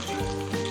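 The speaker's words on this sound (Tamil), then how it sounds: "கடலை பருப்பு, உளுத்தம் பருப்பு, பச்சை மிளகா, கறிவேப்பிலை எல்லாம் போட்டுருங்க. நல்லா பொரிஞ்சு வந்துக்குங்க" Chana dal, urad dal, green chili and curry leaves frying in oil, a brief, steady close-up sizzle with a low background hum.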